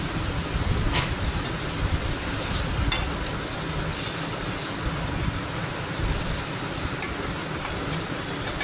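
Pomfret fish simmering in curry in a covered pan over low flame, giving a steady close bubbling sizzle throughout with a few faint clinks.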